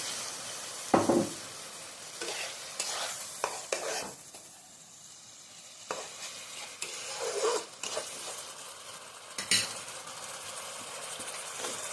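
Potato pakora gravy stirred in a pan, with intermittent scraping and clattering strokes over a soft sizzle, close by and fairly quiet between the louder stirs.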